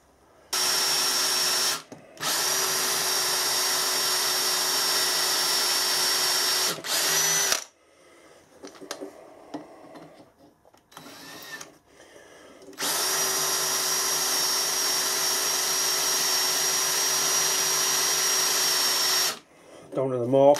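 A mini mill drilling a 4.2 mm hole, running in long steady bursts of high whirring with a short gap, then a quieter stretch with faint handling noises before the drill whines again.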